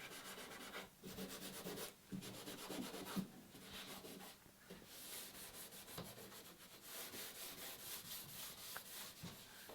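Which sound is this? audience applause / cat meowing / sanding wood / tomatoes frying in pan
sanding wood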